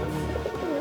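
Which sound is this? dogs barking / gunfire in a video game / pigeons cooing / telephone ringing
pigeons cooing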